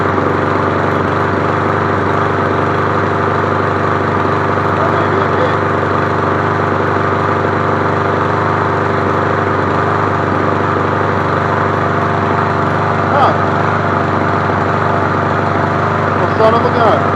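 Cub Cadet SC 300 HW walk-behind lawn mower engine running at a steady, even drone for a long stretch, close and loud with little change in pitch.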